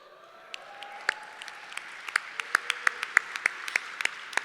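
Audience clapping at an awards ceremony, scattered at first and building into steady applause with sharp individual claps, moderately close and without speech.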